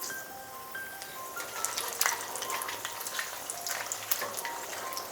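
Whole peppercorns, cloves, cardamom and dried red chillies fry in hot oil in a pan for a rohu fish rezala, giving a steady close sizzle with scattered crackles and pops and no talk.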